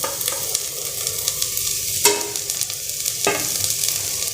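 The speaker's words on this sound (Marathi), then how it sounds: "आणि याला परतून घेऊया त्या भाज्यांना" Cauliflower, carrot and other winter vegetables sautéing in a pan, a continuous close sizzle with a couple of sharp spatula scrapes and knocks, no speech.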